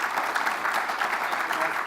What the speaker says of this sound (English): So please join me in a round of applause and welcome him to the stage